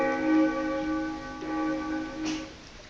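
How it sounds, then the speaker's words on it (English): A bell rings with a sustained, ringing tone and lingering overtones, moderately distant and fairly quiet, with no voices over it. "The bell invites me."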